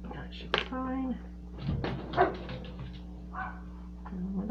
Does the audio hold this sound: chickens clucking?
no